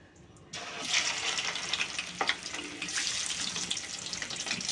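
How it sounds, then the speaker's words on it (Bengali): Pieces of catla fish drop into hot oil in a wok, a sudden loud hiss that settles into a steady crackling sizzle with small pops. "এবার আমি মাছগুলোকে ছাড়ছি।"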